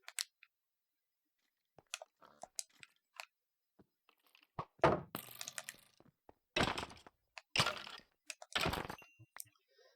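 Projectiles striking around the player in Minecraft, sparse sharp clicks and cracks early, then a cluster of louder thuds and crunching impacts in the second half, separated by silence.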